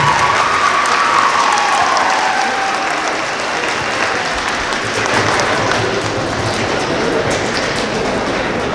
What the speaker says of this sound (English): We also want to give a big round of applause to our choir.